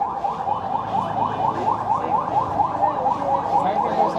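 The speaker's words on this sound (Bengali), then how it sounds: "এখানে একটি অ্যাম্বুলেন্স এসেছে, আসছে।" An ambulance siren arriving at a fire scene in Uttara, a steady rapid wailing cycle that repeats evenly and sounds loud and fairly close, with street noise beneath.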